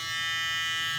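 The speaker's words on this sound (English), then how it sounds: "we're going to use the Instinct trimmer. This thing is really a powerhouse" A Stylecraft Instinct hair trimmer hums steadily at close range, a loud, continuous electric buzz that holds unchanged for the whole second, with no voices.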